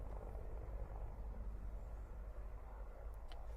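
A military helicopter flying low over trees in wartime Ukraine: a faint, steady distant rotor rumble drones evenly without a break, with no voices.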